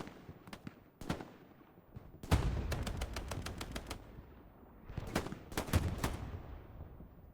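Gunfire in Hell Let Loose: sharp individual rifle shots and rapid machine-gun bursts, some close and loud, others more distant, separated by short quiet gaps.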